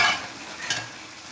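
Potato and moongray frying in oil are stirred with a spoon, giving a short, close sizzle with a soft scrape of stirring and no talk.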